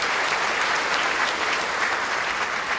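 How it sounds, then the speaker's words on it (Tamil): An audience at a Tamil pattimandram debate event bursts into dense, sustained applause, with many hands clapping evenly and loudly throughout without any break. "அவங்களுக்கு ஒரு தடவை நல்ல ஒரு கைத்தட்டு கொடுக்கலாம்"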